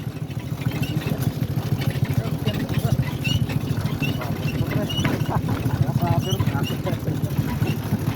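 A motorcycle engine labours on a slippery uphill road, its low strained drone continuous and close, with rattling clatter over it.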